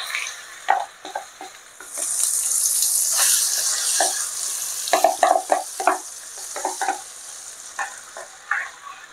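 Masala gravy poured over stuffed eggplant sizzles and spatters in a pan on the stove, a steady frying hiss broken by scraping stirs and wet crackles, with no talk.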